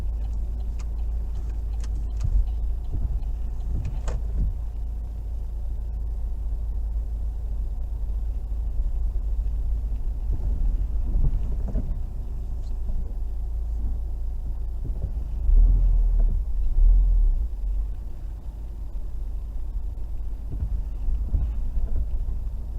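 A car engine idles and rumbles steadily through a child's driving lesson, low and continuous, with wind buffeting the microphone and a few brief knocks over it.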